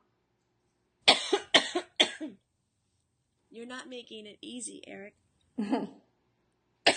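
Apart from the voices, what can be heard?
coughing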